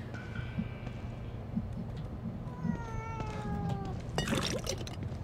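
A cat meows several times in the horror video game The Evil Within 2, thin rising and falling cries over a constant low game ambience, with a sharper burst near the end.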